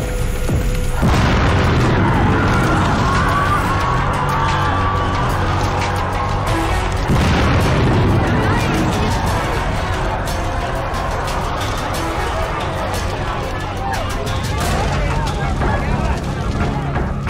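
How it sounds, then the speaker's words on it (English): A gasoline explosion at an industrial plant booms out, followed by a long roaring rumble and crackling of flaming fuel, with a second heavy blast partway through. "The explosion splashed flaming gasoline across the plant grounds and onto surrounding buildings."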